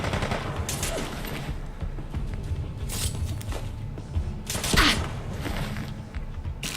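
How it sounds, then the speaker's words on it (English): Gunfire in Fallout London: repeated shots crack amid a busy, noisy game soundscape, several louder bursts standing out over roughly seven seconds, moderately distant and without speech. "And there's somebody shooting at me"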